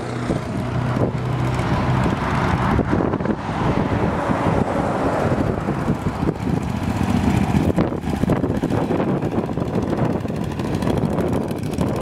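A 1956 Cushman Eagle motor scooter with a V-twin Vanguard engine runs continuously, a loud, rough drone mixed with heavy wind rush as if recorded while riding.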